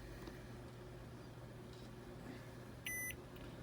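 Multimeter set to continuity mode beeps once with a short, bright tone while probing a shorted iPhone 8 logic board with water damage, over a low steady hum in a quiet room.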